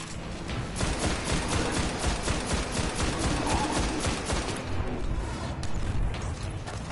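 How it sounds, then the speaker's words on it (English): Rapid bursts of gunfire and missile explosions in the video game Destiny, a dense, loud stream of repeated shots and blasts filling the whole stretch, slightly thinning toward the end. "Oh, that's a missile."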